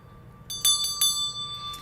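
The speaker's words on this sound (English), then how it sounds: "so I'm going to ring our bell." A classroom bell rung to open a teaching session: about four bright, ringing strikes clustered in the first second, then one more fainter strike, each tone lingering clearly with no talking.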